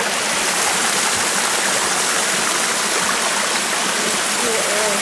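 Stream of water pouring down near a mountain lake on a hike, a steady, loud broadband rush that fills the whole stretch without letup.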